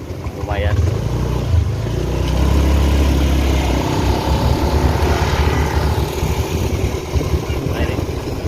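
A motorcycle engine runs steadily at close range during a rice harvest trip in Cilamaya, Karawang, its low rumble continuous throughout with wind-like noise on top.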